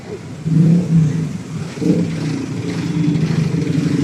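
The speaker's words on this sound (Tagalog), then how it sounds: "Hindi pa pala nagbabago yung traffic sa umaga." Morning road traffic flows close by, with car and motorbike engines droning and revving loudly in overlapping waves.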